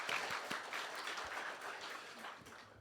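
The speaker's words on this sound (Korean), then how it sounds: "하나님께 영광의 박수 올려드리겠습니다" A church congregation claps together in praise, a broad, steady wash of applause heard from within the sanctuary that stays fairly even across the short stretch, with no talking over it.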